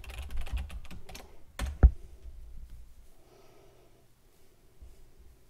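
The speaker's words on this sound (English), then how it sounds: "now we're going to type in the admin password we just came up with" Close, quick keystrokes clatter on a computer keyboard as a password is typed, a burst of clicks with one sharper key hit, then trailing quiet with soft breathing.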